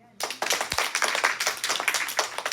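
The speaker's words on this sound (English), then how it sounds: "Can we give them applause?" Applause from a small group, likely children, after a school presentation on habitat dioramas, starting abruptly with quick, uneven clapping, distinct individual claps and a single thump, close and lively throughout.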